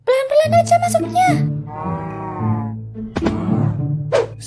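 Mooshroom cows in the Minecraft video game moo in several drawn-out calls, close and loud, alternating with a child-like voice talking between the calls.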